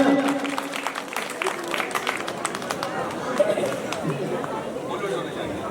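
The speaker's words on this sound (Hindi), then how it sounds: "जोरदार तालियां।" A crowd claps in a dense patter while voices call out and chatter over the applause.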